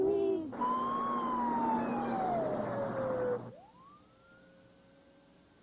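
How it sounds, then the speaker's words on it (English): Ambulance siren on a road, a steady wailing tone that slowly falls in pitch as the vehicle passes close by, then fades after a few seconds into a quieter, more distant rising wail. "they could see the ambulance coming down the road"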